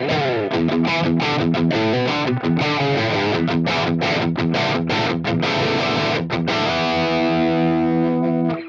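Heavily distorted electric guitar through an Axe-Fx III Marshall amp model chugs out rock chords and riffs with choppy rhythmic stops, then rings out on a sustained chord; loud, thick and meaty, no voices.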